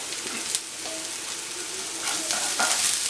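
Onion and garlic sauté in a pan for a Cameroonian fish pie, with a soft steady sizzle and occasional stirring scrapes, growing a little louder near the end, close and with no talk.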